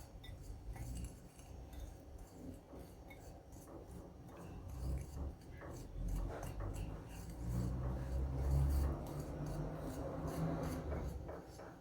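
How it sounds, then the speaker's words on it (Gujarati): Butter, homemade curd and flour for donut dough are stirred and rubbed together in a bowl, giving a soft, steady scraping and rubbing texture, faint and close, with no talking. "હવે આ બધાને મિક્સ કરી દેવાનું છે આપણે"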